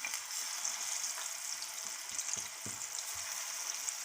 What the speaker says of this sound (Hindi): यहाँ से आपने एक एक पीस करके फ़िश के डाल देने हैं।